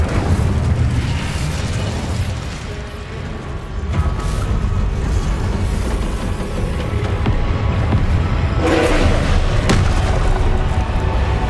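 The Incendio fire spell in the PC game Hogwarts Legacy sounds as a loud, sustained roaring whoosh with booming, explosive bursts that swell and crackle throughout.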